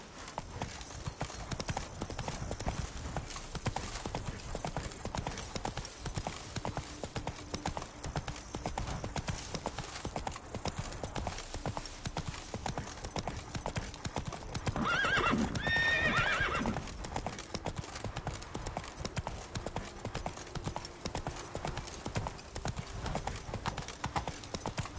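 Roach the horse clip-clops steadily along in The Witcher 3, hooves thudding in an even rhythm through a dense game soundscape, with a brief whinny rising in the middle.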